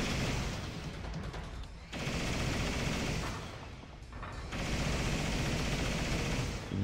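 Mounted turret machine gun in the shooter game Vanquish rattles out long, loud sustained bursts of rapid fire, broken by two brief pauses, with no talking.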